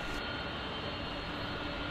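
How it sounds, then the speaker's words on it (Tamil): A British Airways Airbus A380 airliner takes off, a loud, steady roar of jet engines heard continuously at close range with no other sounds. "இப்பொழுது பிரிட்டிஷ் ஏர்வைஸ் நிறுவனத்தினுடைய A380 என்ற விமானம் பறப்பினை ஏற்பட்டுள்ளதை பார்க்கின்றீர்கள்"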